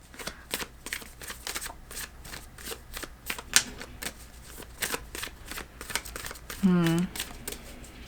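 Tarot cards shuffled by hand in a series of quick riffling, slapping bursts, close and moderately loud, with a brief higher squeak and a short hum near the end.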